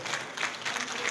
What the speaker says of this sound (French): qu'on puisse vous saluer des applaudissements pour ce beau mandat que vous avez exécuté